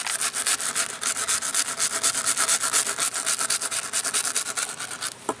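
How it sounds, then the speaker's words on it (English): A wire brush scrapes against the rubber of a Mazda Miata during a Plasti Dip job, a fast, steady run of rhythmic rasping strokes, close and fairly loud, with no talking. "you're scraping the rubber"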